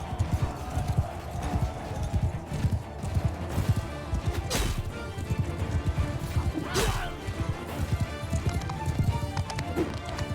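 Galloping horse hooves in Mount and Blade Bannerlord, a steady clip-clop rhythm running throughout with a couple of sharp crashes and battle noise mixed in, moderately loud.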